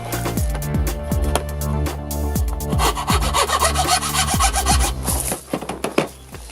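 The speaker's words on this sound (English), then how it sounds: "So I'll cut some crafting lollipop sticks down into the correct size to fit behind the lip." A small saw cuts wooden craft lollipop sticks down to size: a steady run of quick back-and-forth rasping strokes, close, with a few lighter scrapes at the end.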